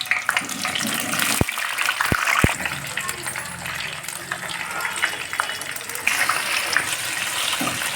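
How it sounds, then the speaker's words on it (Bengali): Onions frying in hot mustard oil in a kadai give a dense, steady sizzle, broken by a few sharp clicks early on. "এখন পেঁয়াজগুলোকে ভেজে নেব।"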